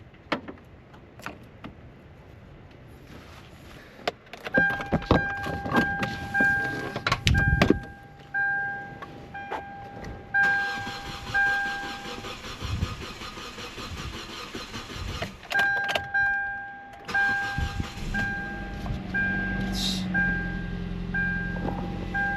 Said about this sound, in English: started up just fine. I had to prime that fuel tank, that fuel pump once. Feel a little bit of a misfire there. It just went away already though. It's idling pretty smooth